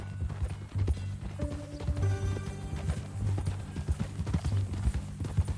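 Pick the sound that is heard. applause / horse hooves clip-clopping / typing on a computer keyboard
horse hooves clip-clopping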